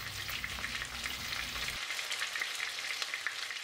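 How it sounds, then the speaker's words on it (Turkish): Steady crackling sizzle of chicken fillets frying in a hot pan for chicken piccata, dense and continuous, with a low rumble dropping away halfway through. "tavuk filelerimizi kısa bir süre arkalı önlü kızartıyoruz."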